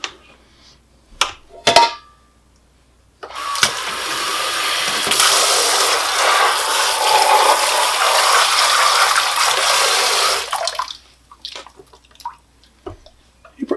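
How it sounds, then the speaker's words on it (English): Water runs steadily over a reusable respirator's face shield for several seconds as it is rinsed, a broad continuous wash framed by brief clunks of handling before and after. "I'm just going to wash that by rinsing it off."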